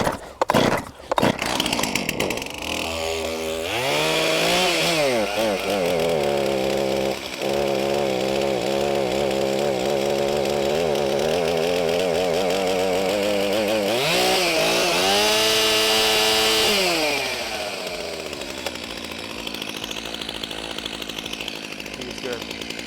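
A chainsaw cutting down a tree during a tree removal, revving up after a few sharp pulls and holding a loud, steady whine through the cut before easing back to idle, with voices faintly under it.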